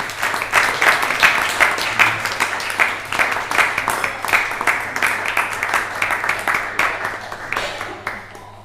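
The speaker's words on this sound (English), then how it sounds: "So keep the clapping going for Jack." A comedy club crowd at the Ponti applauds a stand-up comedian at the end of his set. Sharp, scattered claps build into steady applause across the room, then thin out near the end.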